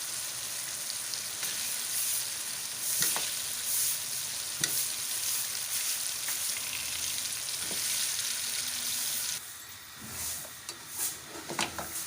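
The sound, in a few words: frying and stirring boiled paya with masala in a kadhai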